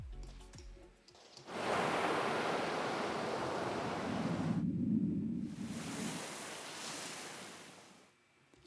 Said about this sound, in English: so the ocean comes in